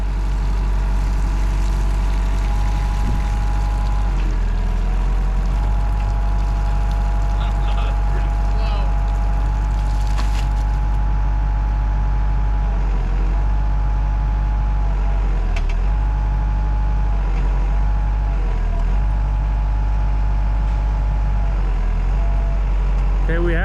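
A Hitachi excavator's diesel engine runs steadily while the machine drives, a loud, continuous low rumble with occasional dips and knocks as it moves.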